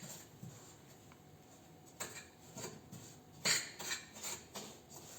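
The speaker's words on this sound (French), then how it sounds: "À l'aide d'une cuillère, on va mélanger" A spoon stirs and creams butter and sugar in a bowl, giving soft scraping and a few brighter clinks against the side, faint and irregular over a quiet room hiss.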